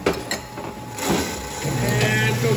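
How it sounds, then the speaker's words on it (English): A wine bottling line with corker and foiler stations runs indoors at a winery, a steady mechanical clatter and whir with rhythmic clunks and a rising hum, close and continuous. "The third station, Mario, he's running the foiler. So that station puts foils on the bottle"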